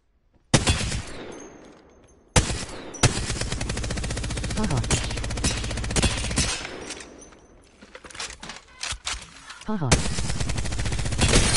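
Video game gunfire: long, loud machine-gun bursts of rapid, evenly spaced shots, starting abruptly, pausing, then resuming, with a brief laugh over the firing.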